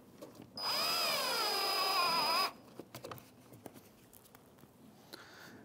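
A cordless power drill whirs steadily for about two seconds as it backs a screw out of the front lower grille of a 2011-2016 Hyundai Elantra, followed by soft clicks and handling noises.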